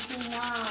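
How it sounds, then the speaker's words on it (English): Soft sandpaper rubbed along the grain of wood in a scroll saw workshop, a steady close scratchy rasp that swells and eases in short strokes. "So you're sanding with the grain."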